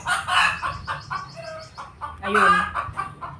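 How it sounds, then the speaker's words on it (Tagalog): Backyard chickens cluck loudly and repeatedly in busy overlapping bursts, a rooster-like call rising among them, while someone briefly speaks in between. "Pero yung aming manok"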